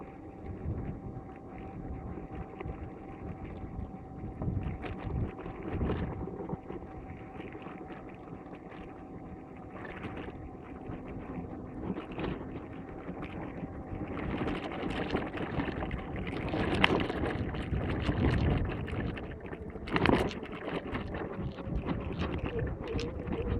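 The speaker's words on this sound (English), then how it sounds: "we got wind against us this time" Wind gusts buffet a small boat on open water, a steady rushing roar with rumbling microphone buffeting and occasional louder bursts, no voices.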